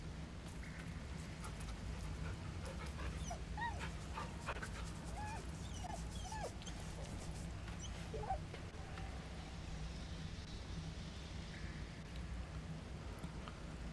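In the video game Baldur's Gate 3, a dog whimpers and yips softly while being petted, with faint panting over a low, steady game ambience.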